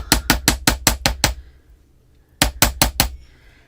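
Parawire wire for earrings being flattened with a hammer on a hard surface: a quick run of seven sharp metallic taps, a pause, then four more, close and crisp with no talking.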